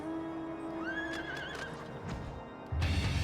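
A horse mount in Final Fantasy XIV whinnies loudly with a rising, wavering neigh over steady background music, then heavy hoofbeats and a rumble take over at the end.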